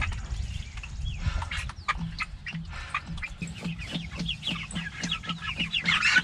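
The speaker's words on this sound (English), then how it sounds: "That's a chicken in 4 weeks." Four-week-old meat chickens cluck and chirp in short, repeated calls over a low, steady rumble, close and fairly busy throughout.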